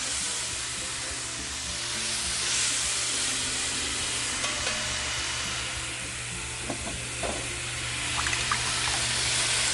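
Oil sizzling and frying steadily in a Lodge Cook It All cast-iron pan used as a wok, a continuous close hiss with faint scraping clinks near the end.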